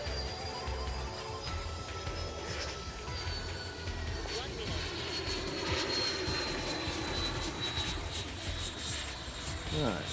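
A Freewing F-16 90mm electric ducted-fan RC jet climbs out after takeoff, its steady whining roar continuous and fairly distant, with voices talking over it.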